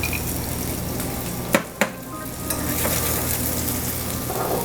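Stir-fry ingredients sizzling in a pan, a loud, steady hiss with two sharp knocks of a utensil early on and softer stirring scrapes afterward.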